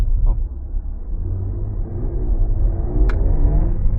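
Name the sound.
Jaguar F-Type engine driving off slowly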